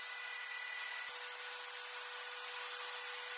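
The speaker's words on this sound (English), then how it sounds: "I opted to use a jigsaw to remove the excess on this go-around." A jigsaw cuts plywood for custom Settlers of Catan game boards in a workshop with a CNC machine, giving a steady, continuous close-up buzz with a hissy edge and no talking.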